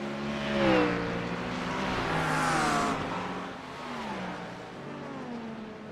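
Ford Mustang race car engines in an iRacing IMSA sim race at Canadian Tire Motorsports Park, with a steady rising and falling engine whine as cars rev and pass, moderately loud and continuous.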